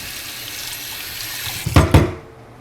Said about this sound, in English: Rinse my spatula.